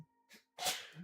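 A single sharp sneeze bursts out close to the microphone after a quick intake of breath, followed by a faint exhale.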